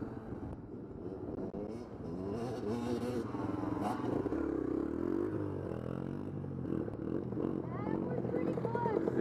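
A motorcycle engine runs and revs at varying pitch through the stretch, loud and close, while a voice talks over it.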